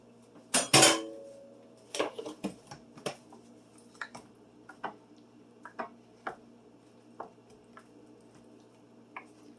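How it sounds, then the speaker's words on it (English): A spoon stirs flour into chicken chilli in a pot, with an opening scrape followed by a series of sharp, irregular taps and knocks against the side, close and clear in a quiet room. "Make sure the flour is mixed in well."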